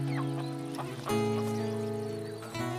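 Chickens and roosters cluck in a farmyard, several birds calling in overlapping bursts at moderate distance over a steady background.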